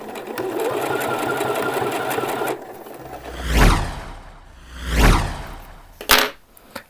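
A sewing machine hems the sleeves of a T-shirt, running in a fast, loud, rhythmic stitching burst for a few seconds, then stopping, followed by a few soft handling thumps.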